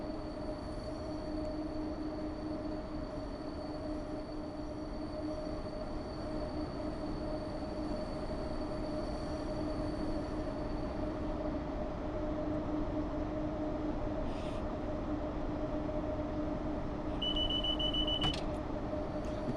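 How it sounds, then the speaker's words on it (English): Rail squeal from a Class 90 locomotive hauling freight in Train Simulator: steady near rumble of running wagons with a sustained high squeal threaded through it, plus a brief sharper screech toward the end. "I really do love the rail squealing"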